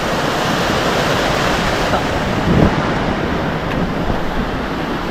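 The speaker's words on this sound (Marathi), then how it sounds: "पूर आलाय नदीला" A flooded river rushing after heavy monsoon rain in a village, a loud continuous roar of churning water with wind buffeting the microphone, steady throughout with no voices.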